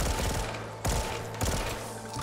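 Rapid gunfire from the Cooper gun in Black Ops 3 custom zombies, loud close bursts of repeated shots with two sharp fresh volleys partway through, no talk.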